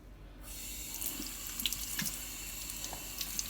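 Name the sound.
rinsing in the sink with running tap water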